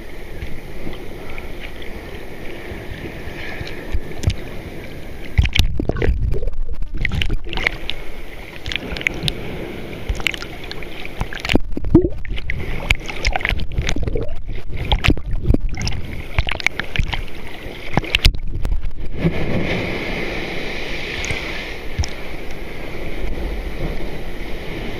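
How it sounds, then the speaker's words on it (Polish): Rough Aegean Sea waves at Oludeniz beach in Turkey roll and wash ashore in a continuous roar, with gusts of wind buffeting the microphone and surges rising and falling. "Słuchajcie, morze egejskie"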